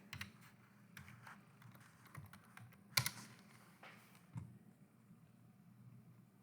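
Fingers tap on a computer keyboard in quick irregular bursts, soft and close, with one sharper key clack standing out over a low room hum.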